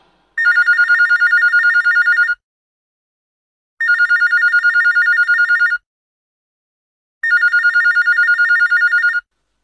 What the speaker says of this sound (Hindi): तो कल्लू को लगा दे सहारनपुर फोन